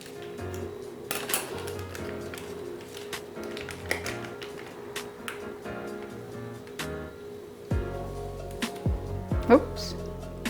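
Kracie Popin Cookin powder being stirred into dough in a small plastic tray, with scattered taps and clinks of a utensil against the container as a voice talks over it.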